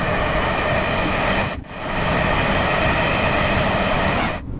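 Running sound of an Avanti West Coast Class 805 train in a train simulator game: steady loud broadband rumble and hum with a short dip partway through, continuous and close, with no voices.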